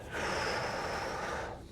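A single long, breathy inhale or exhale during a yoga practice, close and steady for over a second before tapering off.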